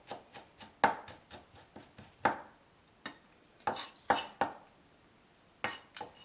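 Knife slicing horse mackerel thinly for sushi on a cutting board, a quick series of crisp taps and cuts in uneven bursts with short pauses between, close and clear.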